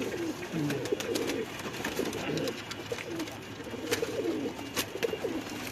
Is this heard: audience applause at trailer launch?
no